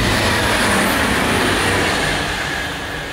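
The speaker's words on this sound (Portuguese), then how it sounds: "puxo a câmera, vem um trem" A train passes in Esslingen, a loud, close, continuous rushing rumble of rail cars that fades slightly toward the end, with no talk.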